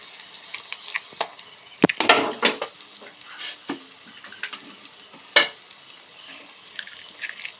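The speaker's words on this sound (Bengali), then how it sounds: "এবার ডিম দুটোকে আমরা ভালো করে যতক্ষণ না ভাজা হচ্ছে ততক্ষণ মশলাটার সাথে ভালো করে মিশিয়ে নেব" Sizzling of two eggs frying in spice paste in a pan, with intermittent scraping and clinking of a utensil stirring, several sharp metallic knocks scattered throughout.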